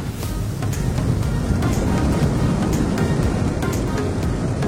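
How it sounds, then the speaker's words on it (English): Strong wind buffets the microphone during a landing, a constant loud rumbling roar with a few faint ticks over it. "the wind is very strong."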